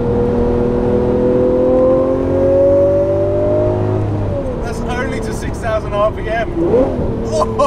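A Lamborghini LP640 accelerating on the road, the engine climbing steadily in pitch through a gear before dropping back, close and loud, with someone talking over the latter part.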